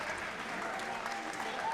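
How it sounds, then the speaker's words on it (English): Crowd applause for two veteran MMA fighters in the cage after a three-round bout, a steady wash of clapping at moderate distance with no breaks. "let's get a big round of applause for these two veteran warriors laying it on the line this evening"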